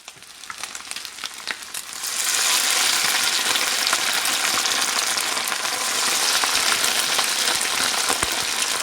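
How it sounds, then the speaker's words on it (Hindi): Halal beef bacon fries in hot oil, a dense, close crackling sizzle that swells to a loud steady roar after a couple of seconds and continues without pause. "बेकन बनाने के लिए हमने तेल को अच्छी तरह गर्म कर लिया"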